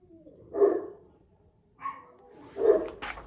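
A dog barks indoors in a home, three separate woofs spaced about a second apart, moderately loud and fairly close, with quiet gaps between them.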